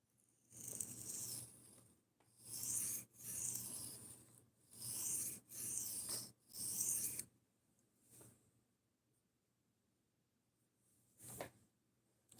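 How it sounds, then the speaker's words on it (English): Knife blade stroked over a sharpening surface to strip the burr from a large Gerber knife: a run of quick raspy scraping passes in close succession, then a pause and a couple of isolated strokes, close and clear with no talk. "So we'll go ahead and just remove the burr real quick."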